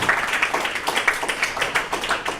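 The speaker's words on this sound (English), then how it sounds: "Julia McNerney and Roshni Patel, we can give them a clap anyway." An audience gives a round of applause, irregular overlapping hand claps sounding fairly close and moderately loud for a couple of seconds, without talking.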